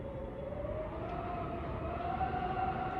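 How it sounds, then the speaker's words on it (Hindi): Eerie wind whistling through a slightly open window, a steady droning hiss with a faint sustained tone that creeps slowly upward in pitch, continuous and fairly quiet. "थोड़ी सी भी अगर ये विंडो खुली रह जाती है तो इतनी भयंकर ऐसी भूतिया जैसी आवाज आती है"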